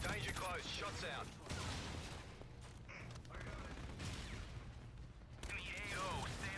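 Dense gunfire in Call of Duty: Infinite Warfare, a steady barrage of rapid shots and booms filling the clip, with voices talking over the battle noise.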